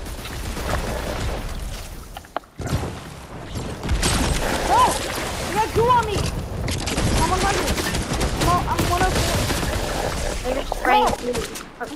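Goo gun firing in Fortnite during a duos match, dense bursts of gunfire and booms through much of the stretch, with people talking over the action.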